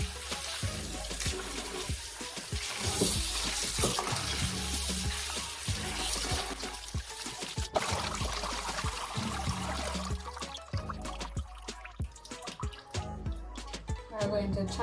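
Water runs and splashes while food is washed during cooking of Jamaican rice and peas with brown stew chicken, a faint uneven trickling and dripping with clatters, under intermittent talk.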